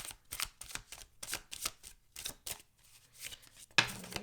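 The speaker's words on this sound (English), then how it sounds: "let's just shuffle up the cards for Virgo for the month of March" Tarot cards are shuffled close by in a series of quick riffling bursts separated by brief pauses, ending with a sharp rustle.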